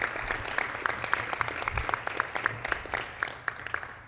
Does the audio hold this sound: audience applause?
yes